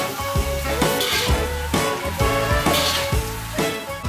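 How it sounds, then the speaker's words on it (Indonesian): Beef tripe stir-fried in a pan with garlic, shallots and red chili, the loud hiss and crackle of frying broken by regular scraping strokes of a spatula tossing the ingredients about four times. "dioseng lagi sampai merata"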